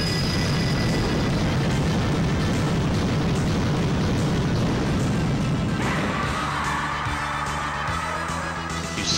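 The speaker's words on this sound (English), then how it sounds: "Megadeth does nuclear fire damage to all enemies." A Megadeth nuclear fire spell striking all enemies in the Wizardry video game: a loud, dense, continuous blast roar that rumbles heavily for about six seconds, then shifts to a brighter, crackling burning tail.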